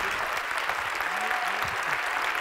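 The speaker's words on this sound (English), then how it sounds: "Round of applause for Dr." Audience applause at a pharmacy business growth conference after a talk by Dr. Bill Andrews, a steady wash of clapping from a hall crowd, moderately distant and even throughout.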